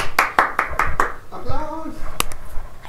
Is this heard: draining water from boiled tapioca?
no